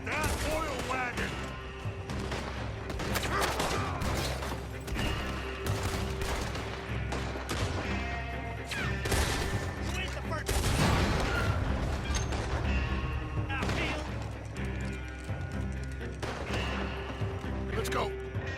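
Sustained gunfire and heavy blasts in a Red Dead Redemption 2 shootout, including an exploding oil wagon: dense, loud volleys of rifle and pistol shots with booming explosions, continuous throughout, with shouting voices mixed in.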